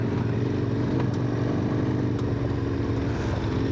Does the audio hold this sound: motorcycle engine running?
yes